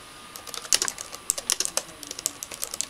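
Rapid, close computer keyboard typing in an uneven patter of crisp key taps during an online Pokemon Showdown battle, with no voices.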